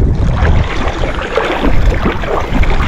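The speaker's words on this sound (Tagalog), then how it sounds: "Kaso lang napakahangin" Strong wind buffets the microphone at the shore during crab hunting, a loud continuous rushing roar with gusty low-frequency thumps and no speech.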